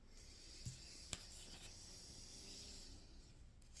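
Tarot cards being laid out on a table, with soft rubbing and sliding swishes and one or two light taps as cards land, close by and quiet, with no talking.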